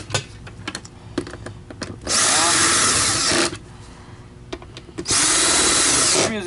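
A power drill set to its lowest torque drives screws during repair work on a Filter Queen Majestic M360 vacuum, giving two loud sustained whirring bursts between quieter clicks and handling noises.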